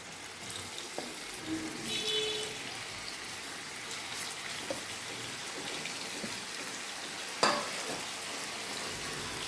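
Chicken pieces frying in about two tablespoons of oil in a pan, a steady close crackle and spatter with a few soft clinks and one sharp knock near the end, no voices.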